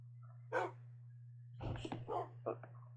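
Dogs in the Minecraft video game bark in a few short yaps, one isolated bark followed by a quick cluster of barks, over a steady low hum.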